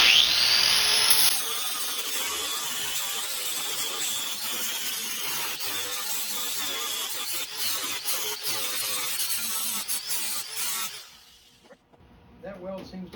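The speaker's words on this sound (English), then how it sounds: "going in with the flap wheel now" A flap wheel grinds down a weld on the body of a 1946 Jeep CJ2A, a steady close abrasive whine sustained for about eleven seconds before cutting off, followed by quiet handling sounds.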